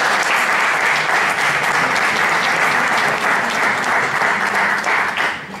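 A loud, dense burst of audience applause fills a political rally or speech hall, sustained clapping from a large crowd close at hand that carries on evenly before tapering off at the end, with only faint voices underneath.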